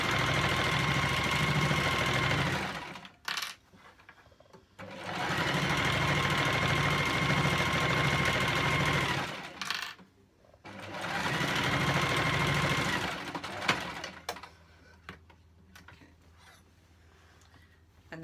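A sewing machine stitches a pajama trouser leg in three long, steady whirring runs separated by short pauses, close and loud, with no talking.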